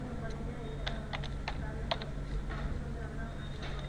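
Fingers type a username on a computer keyboard, a few light scattered key clicks over a steady background hum; a voice speaks in the clip.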